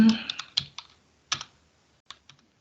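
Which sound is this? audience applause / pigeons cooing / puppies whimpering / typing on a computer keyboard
typing on a computer keyboard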